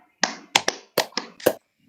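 Hand claps in a group ice-breaking game, six sharp crisp claps in uneven quick clusters, close and clear with no talking over them.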